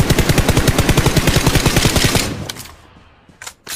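Rifle gunfire from the Game for Peace battle-royale shooter: a loud, rapid automatic burst of evenly spaced shots for about two seconds, fading out, then two brief sharp reports near the end.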